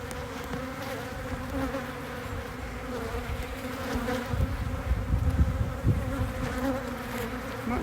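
Honeybees buzz around a hive frame in a dense, continuous hum close by, swelling slightly louder toward the end, with no talking.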